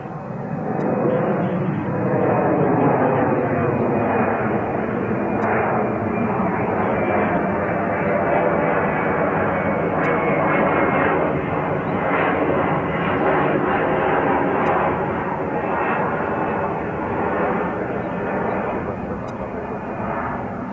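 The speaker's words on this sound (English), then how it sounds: "JetBlue Airways flight 61309 departing from runway 13 right to Santo Domingo" A JetBlue Airways jet takes off from runway 13 right at JFK, bound for Santo Domingo. Its engines give a loud, steady roar that holds through the whole stretch, with faint radio chatter beneath.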